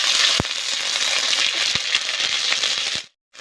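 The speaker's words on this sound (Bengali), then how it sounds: "তেল গরম হয়ে গেছে শুকনো লঙ্কা আর তেজপাতা জিরে দিয়ে দিচ্ছি" Dried red chillies, bay leaf and cumin seeds crackle and sizzle in hot oil for a Bengali katla fish curry, a dense close frying hiss with a few sharp pops before it cuts off abruptly.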